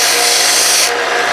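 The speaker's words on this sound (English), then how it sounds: "we're gonna take this over to the belt sander real quick" A belt sander grinds a steel fork ring made from a three-prong fork, a loud, continuous abrasive whir with a constant rasp that drops slightly in brightness near the end.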